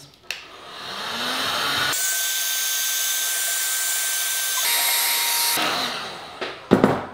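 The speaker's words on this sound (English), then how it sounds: "let me blow dry this for a second" A hand-held hair dryer blows with a steady, close airy roar for several seconds, its pitch shifting partway through as the setting or angle changes, bracketed by brief handling noises.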